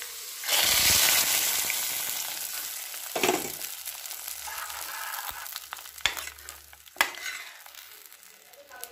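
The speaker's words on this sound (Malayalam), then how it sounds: "ഇനി കശുവണ്ടി ഉന്തിരി നമുക്ക് വറുത്തിടാം." Cashews and raisins hit hot ghee with a loud initial sizzle that settles into a steady fry, punctuated by a few sharp stirring clacks against the pan.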